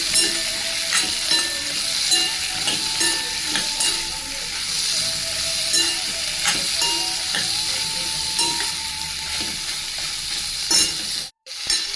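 Tomato vegetable masala sambar paste frying in a pan, a loud, steady sizzle with stirring scrapes throughout and a brief cut near the end.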